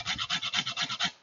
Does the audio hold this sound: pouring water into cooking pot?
no